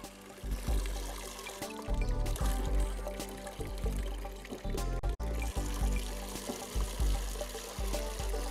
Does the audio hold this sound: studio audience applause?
no